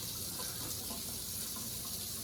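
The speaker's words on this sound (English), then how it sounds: "We don't have to run this water until it gets extremely hot." Tap water runs steadily into a sink, a continuous close hiss and splash with no break, heard alone without talking.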